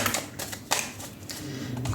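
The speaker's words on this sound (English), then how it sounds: "let's shuffle your tarot." A deck of tarot cards is shuffled up close, giving a quick run of crisp riffling clicks and flutters with a sharper snap near the middle.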